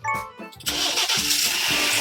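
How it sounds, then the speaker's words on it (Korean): A frozen car's engine cranks and catches in -20°C cold, a brief whirring start giving way to a steady, close rumbling idle. "엔진 걸어놨거든요."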